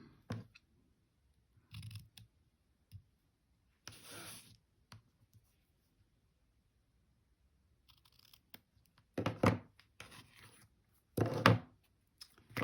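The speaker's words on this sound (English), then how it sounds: "now let me just cut the ribbon" Scissors snip through ribbon while a card is being made, a few scattered close cuts and clicks with quiet gaps, the last cuts louder and sharper.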